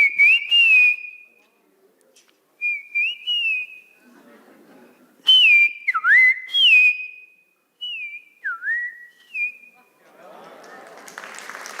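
A person whistles in imitation of a shama bird, a series of clear, loud, separate whistled phrases with rising and falling slides, spaced by short pauses.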